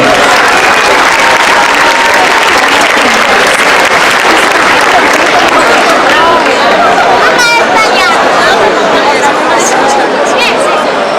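A crowd at a traditional Sardinian mask parade at the Festa del Redentore in Nuoro applauds loudly and continuously, with chatter and a few whistles mixed into the clapping.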